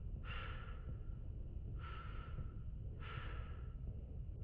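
Slow, quiet breathing from a character in the video game Mass Effect 2: three long, airy exhalations, evenly spaced, heard close against a low rumbling background with no talk.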